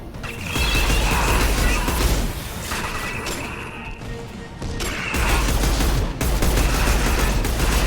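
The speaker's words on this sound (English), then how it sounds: "Firing anti-ship batteries at collector vessel." Guardian anti-ship batteries in Mass Effect 2 pound a Collector vessel, a loud, sustained barrage of heavy mechanical blasts and crashes rolling in waves with brief lulls between them.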